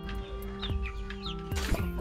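Native chickens in a shared coop with Rhode Island hens and a Bisaya rooster cluck in short, close bursts, several birds overlapping with faint chirps in between.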